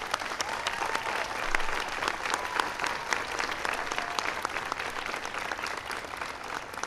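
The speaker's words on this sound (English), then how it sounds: "Give him a big round of applause." Audience at the 2011 National Teacher of the Year Award ceremony breaking into steady applause, dense clapping from a large crowd filling the room and holding at an even level throughout.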